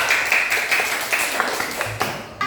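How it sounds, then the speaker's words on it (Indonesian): Students in a classroom clap together as applause for a classmate's answer, a steady dense patter of many hands sustained close by for a couple of seconds. "Ya, berikan tepuk tangan ya."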